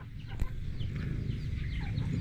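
Chickens cluck softly in a rural village yard, a few faint calls over a steady low background murmur, without talk.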